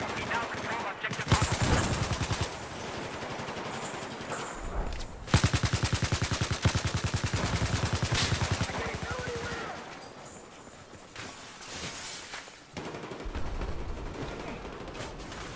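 Battlefield 4 gunfire on a bridge, with sustained rapid automatic bursts and scattered shots filling most of the stretch, loud and continuous under occasional talk, easing toward the end.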